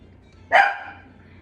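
A dog gives a single sharp bark close by, rising suddenly and trailing off in a brief echo, with a quiet room around it.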